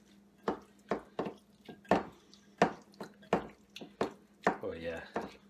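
A hand squishes and mixes pieces of cod fillet in a marinade of white wine vinegar and basil. It makes a string of wet slaps and squelches, close and fairly quiet, in an uneven rhythm.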